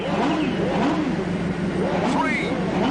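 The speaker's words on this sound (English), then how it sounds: "Mr. Motivator, rev your engine." Motorbike engine revving in a 1996 racing video game, a steady droning rev with rising whines running continuously under a presenter's loud commentary.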